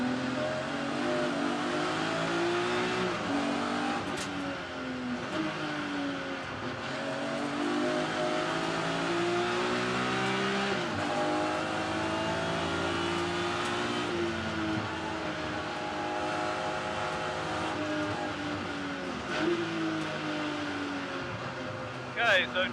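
BMW race cars in the Kumho BMW Championship at Brands Hatch Indy, several engines revving and shifting gears at high speed, a sustained loud drone with rising and falling pitch under a commentator's voice.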